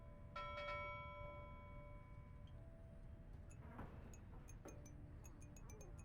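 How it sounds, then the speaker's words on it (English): A nautical bell from seafaring equipment in the video game Pyre rings several bright, sustained strikes that decay, followed by lighter, higher metallic ticks and chimes over a soft background hum. "Nautical bell."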